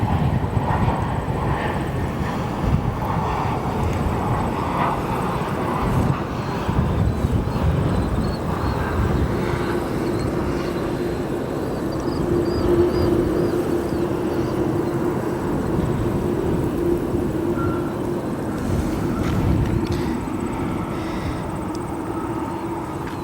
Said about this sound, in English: This aircraft on your screen, Dreamliner, United Airlines